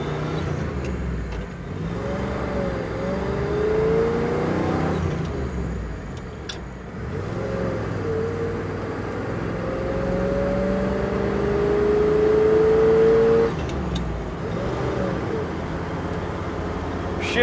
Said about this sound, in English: We'll get it through all 4 gears here.